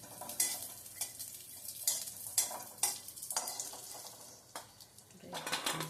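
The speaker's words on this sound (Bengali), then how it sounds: "এবার আমি দিচ্ছি কিসমিসগুলো কিসমিসগুলো বেশি ভাজবে না একটু হালকা ভেজে নিতে হবে" Raisins fry lightly in ghee in a kadai for suji halwa, with a soft, faint sizzle broken by a series of short, sharp scrapes and taps of a spoon against the pan.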